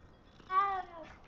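A single short cat meow rises and falls in the Hogwarts Legacy video game, close and clear against quiet background noise.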